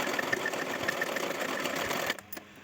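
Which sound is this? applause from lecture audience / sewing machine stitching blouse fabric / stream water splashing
sewing machine stitching blouse fabric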